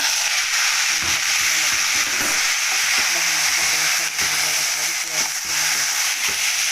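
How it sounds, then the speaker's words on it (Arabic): Rice frying and being stirred in a pan until golden, a continuous loud sizzle with scraping stir strokes repeating throughout, while a voice talks over it. "كده هنحط الرز عليها خلاص كده احمرت حلوه، حمرها كده حلو لون الذهبي ده"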